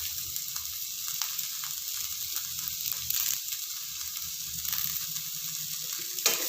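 Sliced onions and curry leaves sauté in a pan for a green peas masala gravy, giving a steady, soft sizzle with faint stirring scrapes and no talking.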